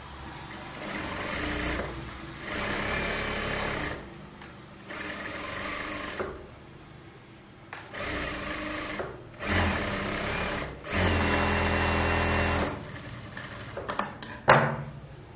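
A sewing machine stitches a bridal Aari blouse in a run of close, loud, steady bursts of whirring, each a few seconds long and broken by short pauses.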